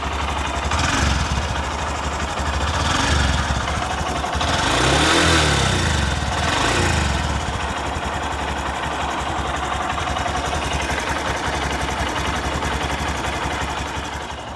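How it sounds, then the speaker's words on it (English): A Honda CB125F motorcycle's small single-cylinder engine idles close by, a steady, loud mechanical putter with a couple of brief swells in revs midway, running continuously for about fifteen seconds with no talking. "But here's what it sounds like."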